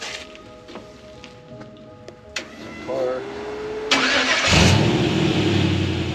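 A rock crawler's engine is started on a hard Arizona trail: several brief clicks and a grinding crank, then the motor catches and roars loud and steady near the end, with people talking over it.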